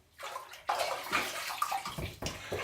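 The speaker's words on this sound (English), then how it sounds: "Let's rinse." A Merkur Futur adjustable razor is rinsed in sink water after a cold-water shave, with close, steady splashing and running water that swells in several surges.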